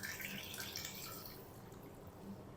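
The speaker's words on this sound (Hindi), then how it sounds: "अब हम इसके अंदर पानी शामिल करेंगे।" Water poured over raw fish pieces already seasoned with salt and about two tablespoons of vinegar, a steady close splashing and trickling that fades slightly toward the end, with no talking.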